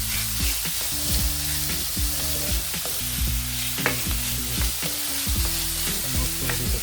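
Onions fry in a pan for spicy chicken with rice, a continuous sizzle with repeated utensil scrapes and taps against the pan at an uneven rhythm.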